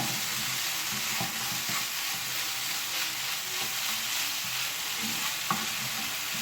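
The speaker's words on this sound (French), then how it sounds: "maintenant à feu vif pendant 3 minutes, le temps de faire bien dorer ma viande" Meat browns in a pan over high heat for a homemade kebab, a steady, dense sizzle that fills the whole stretch, close and even, with a few faint clinks and no talking.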